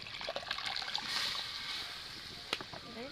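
Boiled mung dal poured into a cooking pan, giving a steady wet splashing and trickling that swells and then tapers off, close by, with a brief clink near the end.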